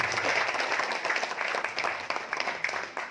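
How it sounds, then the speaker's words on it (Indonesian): An audience at an EBS University Mataram talk applauds for Pak Ahmad Haris, steady dense clapping at moderate volume with no speech, lasting a few seconds. "Mungkin bisa tepuk tangan buat Pak Ahmad Haris"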